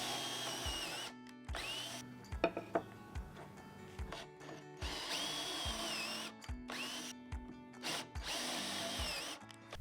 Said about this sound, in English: Next, I'm drilling 2 pocket holes spaced out evenly